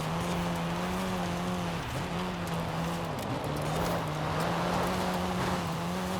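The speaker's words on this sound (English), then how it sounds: "Nice pop from the exhaust." Engine of a car driven in the Forza Horizon racing game, a steady loud tone that dips briefly twice as the driver shifts or lifts, with an exhaust pop, continuous throughout.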